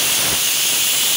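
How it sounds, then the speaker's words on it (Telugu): A pressure cooker cooking mutton paya curry lets out a loud, continuous close-up hiss of escaping steam from its whistle, filling the short moment with no voices. "ఇక 2 విజిల్ వచ్చినాయి, స్టవ్ బంద్ చేసుకుందాం."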